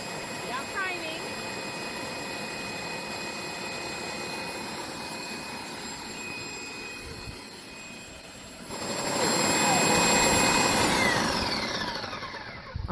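A Wagner Paint Crew power sprayer runs steadily while priming, a continuous motor whine with a rattling undertone that surges louder near the end before easing off, with no talking.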